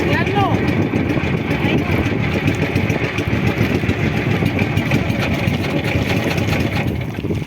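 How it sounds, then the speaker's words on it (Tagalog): A motorcycle engine idles steadily near a fishing spot, a constant low rumble running through the whole clip with faint voices over it. "Nagmi-minor na, ganda ng minor ng ating motor."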